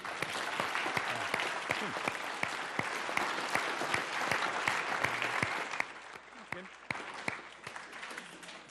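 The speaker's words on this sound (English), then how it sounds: "Okay, and then one last round of applause for Greg and Richard." A large audience gives a long round of applause with dense, steady clapping that eases off slightly toward the end before a few scattered claps continue.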